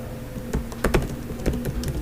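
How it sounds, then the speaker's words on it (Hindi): Fingers tap on a computer keyboard while entering a Google search, producing a short run of light, irregular key clicks up close. "फॉर एग्जांपल मैं गूगल पर टाइप करता हूँ"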